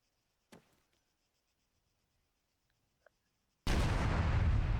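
A loud explosion in Halo erupts suddenly after near-silence broken by a couple of faint clicks, then roars on as a sustained, dense blast through to the end.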